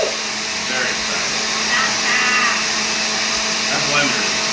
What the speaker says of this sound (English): That's not a great blender, I don't think.